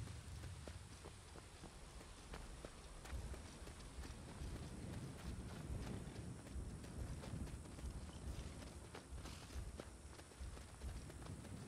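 Steady clip-clop of horse hooves walking at an even pace in the video game Skyrim, with a dense rustling ambience around them and no talking.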